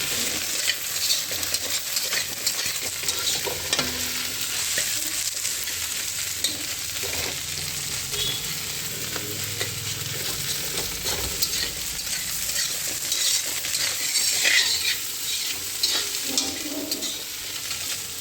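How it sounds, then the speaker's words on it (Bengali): Eggs sizzling and crackling in a hot pan at a home stove, with continuous frying hiss and occasional stirring scrapes, steady and close, no talking. "এখন ডিমগুলো ভেজে ফেলবো।"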